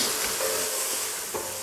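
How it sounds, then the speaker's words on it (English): Onion sweats in a pan with a soft, continuous sizzle and a few light stirring clicks. The sound is brief and moderately quiet. "Now that the onion's starting to sweat off a little bit"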